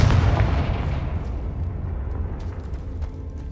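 A Confringo blasting spell from the Hogwarts Legacy video game bursts as a loud, heavy boom, then a long rumbling tail fades over several seconds, with no talk.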